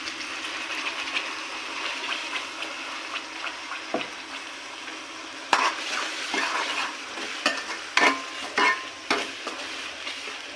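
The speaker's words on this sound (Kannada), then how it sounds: "ಸ್ವಲ್ಪ ಚೆನ್ನಾಗಿ ಫ್ರೈ ಆಗಿ ಎಣ್ಣೆ ಬಿಟ್ಕೊಳ್ಳೋವರೆಗೂ ಫ್ರೈ ಆಗಬೇಕು" Ground masala paste frying in oil for chana masala, a soft continuous sizzle with repeated scraping stirs and a few sharper knocks of a spoon against the pan, close and moderately quiet, no voices.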